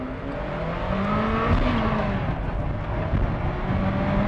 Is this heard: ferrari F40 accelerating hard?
yes